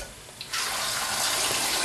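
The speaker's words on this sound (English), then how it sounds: "I just add water" Cold tap water gushes into a kettle holding eggs, starting with a small splash and then becoming a steady loud rushing stream close by.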